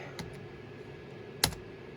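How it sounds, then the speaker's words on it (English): Sparse keystrokes on an old laptop keyboard running Windows 95: two or three faint, isolated clicks over a steady low room hiss, with no speech. "Let's see if I can go a little bit faster with the keyboard."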